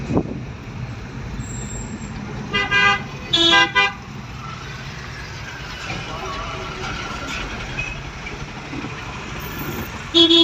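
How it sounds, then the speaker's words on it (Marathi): Road traffic at a signal in Sindhudurg, with engines rumbling steadily and car horns honking in short clustered bursts, several in a row near the middle and another at the end. "ट्रॅफिक"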